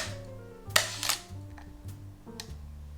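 The first digital Leica M, from 2006, shoots continuously, giving a few quiet, close shutter clicks at irregular intervals with faint mechanical whirring between them and no voices.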